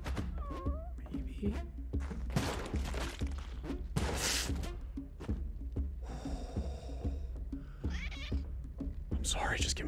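A cat meows a few times in the video game Spelunky, short rising and falling calls mixed with thumps and other game effects while someone talks over them.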